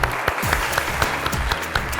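Lively applause from an audience, steady clapping with a few louder claps standing out, no voices on top.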